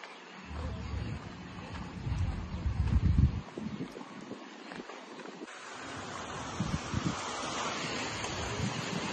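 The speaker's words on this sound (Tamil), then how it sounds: "நானும் அபிலாசும் சிடே கடற்கரைக்கு வந்துட்டோம்." Ocean waves wash and roar on Side beach in Turkey, with gusts of wind buffeting the microphone; surf swells louder early on, then settles into a steady rushing.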